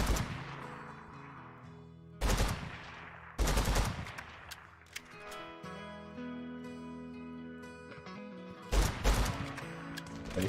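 Video game weapon fire in short, loud bursts of several rapid shots, separated by quieter stretches with lingering tones.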